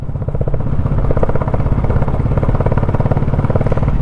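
Royal Enfield Bullet 350 motorcycle with a modified silencer, a deep, loud thumping exhaust idling close by in a fast, steady pulse with no talk over it.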